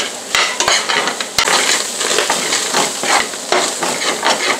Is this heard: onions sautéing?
yes